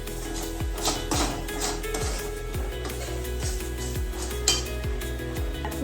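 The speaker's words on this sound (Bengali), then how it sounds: "এবার এটাকে সাঁড়াশি দিয়ে ভালো করে ডালটাকে মিক্স করতে হবে" Repeated metallic scraping and clinking of tongs stirring dal in a pot, roughly once a second, close and moderately loud.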